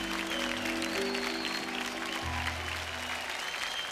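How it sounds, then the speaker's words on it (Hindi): Audience applause on the Hindi TV show Dilli Darlings, a steady bed of clapping under a musical score with sustained tones and a low bass note entering midway. "इनके लिए जोरदार तालियां"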